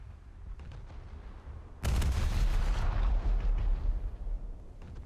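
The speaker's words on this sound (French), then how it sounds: "quand j'ai tiré les canons dans mon casque, j'ai entendu des sortes de petits pouf pouf" Naval cannons fire in War Thunder's realistic naval battle mode, a sudden heavy burst of booming blasts that swells and rumbles for several seconds over an ongoing low background of ship noise.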